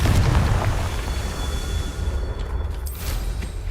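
Confringo fire-blast spell in a Harry Potter wizarding video game, a loud booming explosion at the start that rumbles and crackles, then decays into a steady roaring wash with a few later pops.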